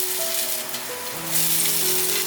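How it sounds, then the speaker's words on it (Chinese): Fermented black beans sizzle steadily in hot oil in a wok for a vegan home-style dish, a loud continuous frying hiss with a few faint tonal scrapes of stirring, no voices. "把黑豆豉炒香。"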